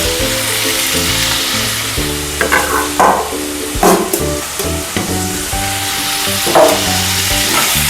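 Kashmiri chili powder and a little turmeric frying in a pan for Bengali chicken kasha, a close, steady sizzle broken by scraping stirs and spoon knocks, with a tonal hum running underneath.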